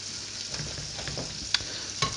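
Tofu burgers with melting cheese fry in a covered pan, a soft continuous sizzle with a few small pops and crackles, close and quiet.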